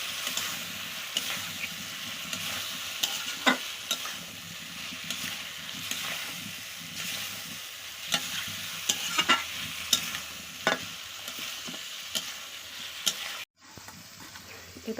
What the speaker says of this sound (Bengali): চিকেন দিয়ে এখন ভালো করে কষাতে থাকবো